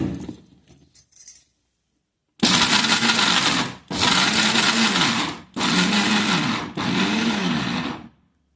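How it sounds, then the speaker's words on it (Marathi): A mixer grinder whirs loudly in four bursts of a few seconds each, grinding ginger, garlic and coconut, separated by brief pauses, after a few small clinks at the start. "आता हे पण मिक्सरला बारीक करून घ्यायचं आहे"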